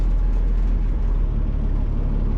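A Comet car's engine roars low and heavy up close under hard acceleration, a continuous rumbling drone that stays strong throughout without clear rising pitch.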